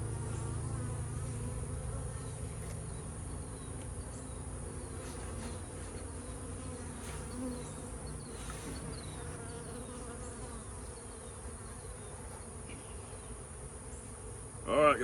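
Steady insect buzzing from bees swarming around a nuc hanging on a tree, a dense continuous hum that stays loud and close throughout, with a brief louder burst near the end.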